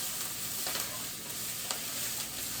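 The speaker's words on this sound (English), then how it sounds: "Give that a nice little stir." A spoon stirring Tuscan kale into creamy lemon orzo in a pan, a steady sizzle with soft scraping and occasional faint clinks, close and without talk.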